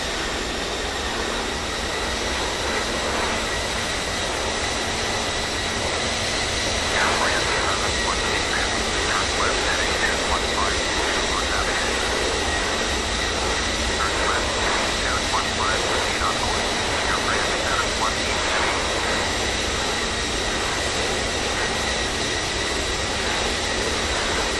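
Embraer ERJ-145 jet engines roar loudly and steadily from an outside view in a flight simulator game, a dense constant whine and rush with no pauses throughout.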